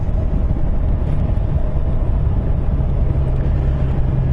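A 2017 Kawasaki Z1000SX 1000cc motorcycle cruising in sixth gear at 30 mph around 2000 rpm, giving a steady low engine drone mixed with road and wind rumble, continuous and loud, with no talk.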